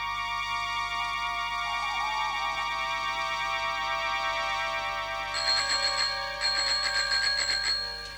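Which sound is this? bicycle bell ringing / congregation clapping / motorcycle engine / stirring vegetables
bicycle bell ringing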